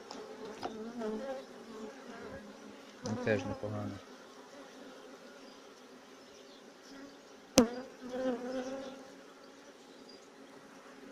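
Honey bees buzz softly around a hive and feeder at an apiary, a faint continuous drone beneath brief spoken remarks and a few sharp handling clicks.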